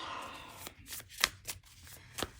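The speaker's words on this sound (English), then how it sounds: "Let's get this a good shuffle in here." A tarot card deck being shuffled by hand, giving a few crisp, close riffling snaps and soft papery shuffles against a quiet room background, with no talking.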